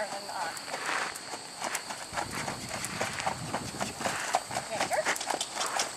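An Amish horse's hooves clip-clop in a steady walking rhythm at close range, heard beneath people talking.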